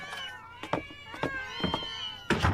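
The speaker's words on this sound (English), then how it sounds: "Kitties, kitties, kitties! And more!" Several cartoon cats meow in quick bursts in an anime scene, a few short cries spread across the moment with a louder one at the end, over light background music.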